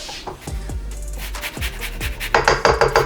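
A kitchen tool scrapes repeatedly around the sides of a mixing bowl of cinnamon roll dough, making close, rhythmic rubbing strokes that grow louder and quicker toward the end.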